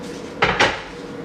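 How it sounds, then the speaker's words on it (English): A chopping board set down and slid aside on a kitchen counter, two quick close hard knocks with a short scrape between, heard alone in a quiet room. "let me get rid of this chopping board"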